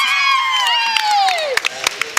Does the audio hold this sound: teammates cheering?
yes